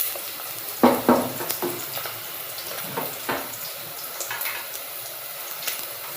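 Onions and a spice paste frying in hot oil in a pan for chicken curry, a steady sizzle with a few sharp spatters and stirring scrapes near the start, close and clear, with no voices.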